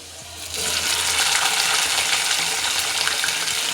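Guar beans hit hot oil with garlic in a pan and set off a sudden loud, close sizzle that keeps hissing and crackling steadily.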